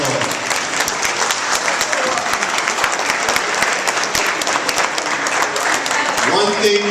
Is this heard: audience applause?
yes